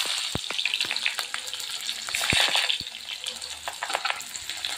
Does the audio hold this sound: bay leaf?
yes